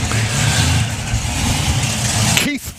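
Someone's supercharged 1930s Ford drag car, El Loco, runs its engine at a drag strip, a loud, steady rumble under speech that cuts off abruptly near the end.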